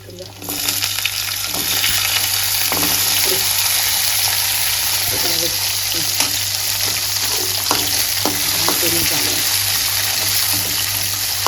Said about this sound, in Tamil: சின்ன வெங்காயம் நல்லா எண்ணெயில் நல்லா வதக்கி எடுக்கணுங்க